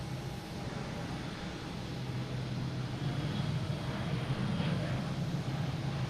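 American airliner taking off at Boston Logan International Airport, a steady broadband jet roar with low engine rumble holding at a distance for several seconds.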